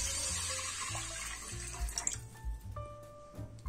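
Cold water pours into a cooking pan with washed rice for rice pudding, a close splashing stream that tapers into irregular gurgles and drips.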